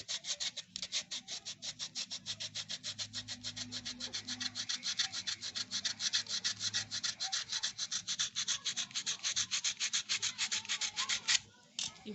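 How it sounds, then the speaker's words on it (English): A sandal sole sanded by hand with sandpaper, a rhythmic rasping scrub repeated in steady quick strokes, close and fairly loud, running almost the whole way before a brief stop near the end. "some people, they use sandpaper when they don't have a machine, but it takes time"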